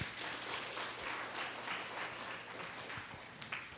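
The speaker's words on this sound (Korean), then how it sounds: "다시 한번 발표를 진행한 8명의 학생들을 위해 격려의 박수 부탁드립니다." Audience applause for eight student presenters at a university results presentation festival, a continuous, even patter of many hands, moderately faint.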